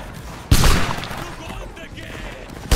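Musket volley gunfire in a video game battle, two loud crashing blasts of massed shots, the first followed by a lingering rumble and crackle.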